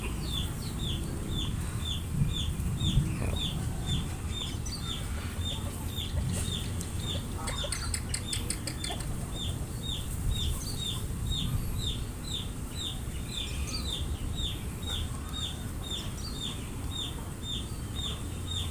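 Chickens in a laying coop cluck repeatedly in a steady, rhythmic series over constant background noise, with no talking.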